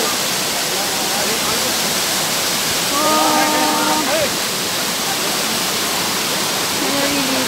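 Waterfall at Little Hawaii in Hong Kong, a loud, dense, steady roar of falling water filling the scene, with faint birdsong or whistles briefly rising above it.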